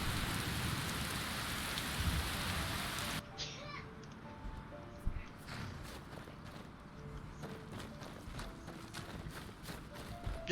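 Heavy rain pours in Markarth in the video game Skyrim, loud and hissing at first, then drops to softer patter with scattered drips and faint distant rumbles.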